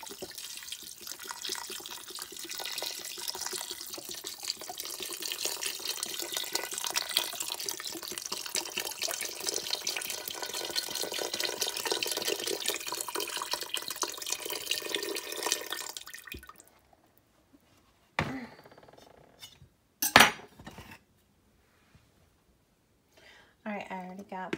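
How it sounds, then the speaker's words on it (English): Organic beef broth pours steadily into a pot for about sixteen seconds as a loud continuous splashing stream, followed by quieter clinks, drips and a sharp knock near the end. "I'm just going to throw our broth in"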